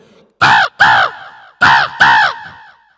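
A mimicry artist imitates a crow with four loud, close caws, delivered as two quick pairs separated by a short pause.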